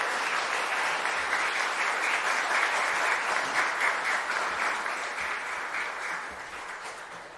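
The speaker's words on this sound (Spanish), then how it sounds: "la comunidad de la Merced te da un caluroso aplauso" A congregation at a Mass in the Capilla Virgen de las Mercedes in Luque applauds the priest, sustained dense clapping that holds steady and then slowly fades toward the end.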